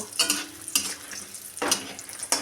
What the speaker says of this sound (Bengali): বড়িগুলো দেওয়ার সাথে সাথেই ভাজা হয়ে গেল তার কারণ কড়াইটা খুব গরম রয়েছে